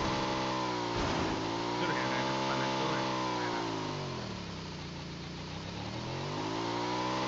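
A motorbike engine in the PUBG video game revs loudly, its pitch rising and falling in smooth sweeps before climbing again, with no other sound alongside it.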